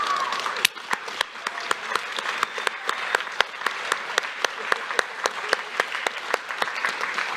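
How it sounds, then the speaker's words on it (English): At a youth achievement awards ceremony, an audience applauds the helpers with a steady crowd of clapping and a few sharp, distinct claps standing out above the wash throughout. "Students, I need you to give a round of applause to these people who helped you today."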